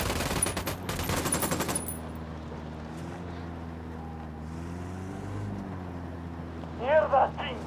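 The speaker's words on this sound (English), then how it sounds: "I'm opening fire on these shitheads." Rapid gunfire from the video game Ghost Recon: Wildlands cracks out in a dense, loud burst over the first two seconds, then gives way to a low, steady ambient rumble, with a brief sharp sound near the end.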